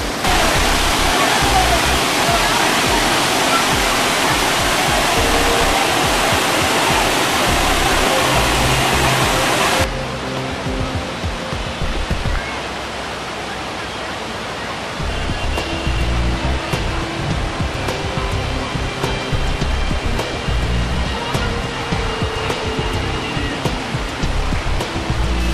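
The natural waterfall at Sahastradhara, Dehradun, roars loudly and continuously, a dense rushing wash of falling water; the sound shifts slightly partway through but stays strong and steady throughout.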